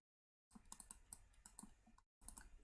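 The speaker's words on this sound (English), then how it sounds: "Can I just type this in?" Someone types on a computer keyboard while entering a number on a web page: quiet, irregular bursts of clicky keystrokes with a short pause partway through, close by and without speech.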